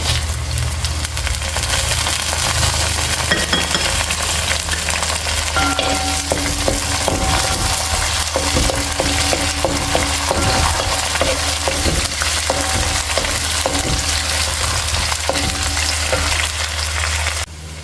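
Dried red chillies and green chillies fry in a pan of hot oil, a loud, steady sizzle and crackle with occasional stirring scrapes running throughout.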